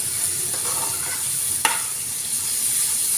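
Beetroot pieces seasoned with salt and turmeric fry steadily in a pan, giving a constant soft sizzle with a brief stir or scrape partway through, no talking.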